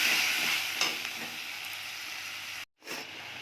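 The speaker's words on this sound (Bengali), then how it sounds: "কড়াইতে তেল গরম হয়ে গেছে, তেজপাতা ফোড়ন দিচ্ছি, সাদা জিরে দিয়ে দিচ্ছি" Bay leaf and cumin seeds crackle and sizzle in hot oil in a wok, a bright steady hiss with a few sharper pops, cutting out briefly before resuming.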